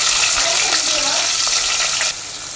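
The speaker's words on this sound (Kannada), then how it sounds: "ಬಿಸಿ ಆದಮೇಲೆ ಇದಕ್ಕೆ ಈರುಳ್ಳಿ ಮತ್ತು ಮೆಣಸಿನ್ಕಾಯಿ ಒಟ್ಟಿಗೆ ಹಾಕ್ಕೊಳ್ತಿದ್ದೀನಿ" Onions and chillies drop into hot oil for chicken gravy and fry with a loud, dense, continuous crackling hiss that eases off slightly just before the end.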